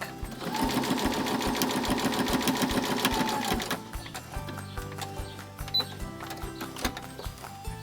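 A sewing machine stitches a wallet, a fast steady mechanical clatter for about four seconds, then stopping and giving way to quieter clicks and handling sounds as the fabric is turned.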